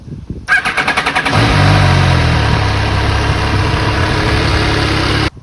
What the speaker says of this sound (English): first turning the ignition key, waiting for the bike to start itself, and then pressing the ignition, which is here under the helmet